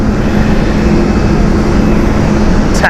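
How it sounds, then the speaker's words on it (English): An Iraqi Airways Airbus A330-200 taxis after landing at an airport, a loud, steady broadband engine roar holding constant throughout, close by, with no speech. "This is Iraqi Airways Airbus A330-200."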